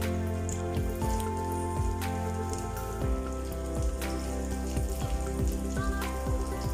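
Onion hitting a frying pan with spices and cloves, a steady loud sizzle and crackle of frying throughout, with stirring clatter and no talking over it.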